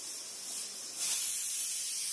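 Steady high-pitched hiss of steam escaping from a pressure cooker whistle while cooking Sindhi curry, growing louder and fuller about halfway through and continuing without a break.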